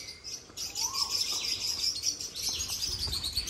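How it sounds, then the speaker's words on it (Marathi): Bengalese finches and Java sparrows in an aviary chirp continuously, a busy chorus of high repeated tweets at moderate distance with faint background rumble. "पक्ष्यांचं गृह बर्ड्स डेन कुठले कुठले आहे बंगाली फिंच कुठला आहे जावा स्पॅरो"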